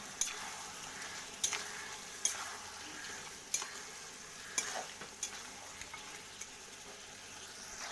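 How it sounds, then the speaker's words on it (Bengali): Masala for a matar (pea) curry fries in a pan, a soft steady sizzle under the repeated clink and scrape of a spoon stirring against the metal every second or so, close and quiet with no voices. "এটাকে আমি ভালো করে কষিয়ে নেব"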